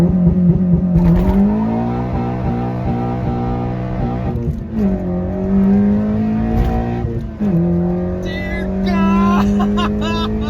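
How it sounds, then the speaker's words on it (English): A tuned Honda Civic Si engine revs and pulls while driving, its pitch climbing in several surges with shifts between them, loud and steady from inside the car. "Driving the SI with a tune."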